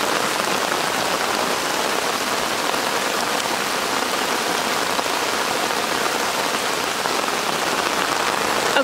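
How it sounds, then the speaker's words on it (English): Heavy rain pours down steadily and loudly on a garden, a dense continuous hiss of drops striking surfaces, with no voices. "I hope you can hear me over the rain."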